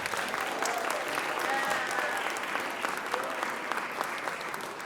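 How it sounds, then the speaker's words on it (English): An audience at a choir's winter concert claps in steady, dense applause that carries on throughout, with a few voices faintly audible underneath. "get a round of applause"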